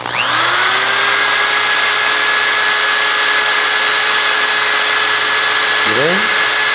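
An electric drill spins up and runs at a steady high-pitched whine, close and loud, while driving a magnet beside a high-voltage coil to generate a test voltage; near the end it briefly slows and revs again.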